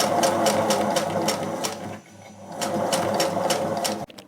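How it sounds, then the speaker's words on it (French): A sewing machine runs in steady rapid bursts while stitching the hem of a jacket, with a short pause midway before it resumes, close and loud with no talking. "je vais coudre un ourlet pour que ça soit plus propre"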